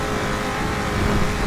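A car engine revs in the video game GTA V, a loud, continuous roaring drone with slight surges and no voices.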